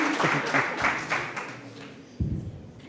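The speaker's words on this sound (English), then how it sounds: "On applaudit pour ça." An audience at a Francophonie celebration at a teacher training college in Savé claps in a short burst that fades, then picks up briefly again, with a little talk mixed in.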